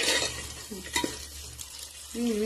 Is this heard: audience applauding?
no